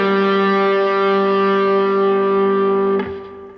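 Distorted electric guitar run through effects plays a sustained phrase, one long held note ringing loud and alone before a quick change near the end and a fading tail.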